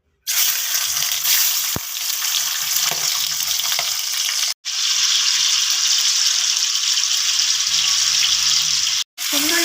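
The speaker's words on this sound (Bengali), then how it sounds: "এবার আমি সিমে দিয়ে মাছের মাথাটাকে এর ভেতরে দিয়ে দেবো" Fish heads dropped into smoking-hot oil in a wok on a gas flame give a loud, steady, dense sizzle that briefly cuts out twice, then resumes at full strength.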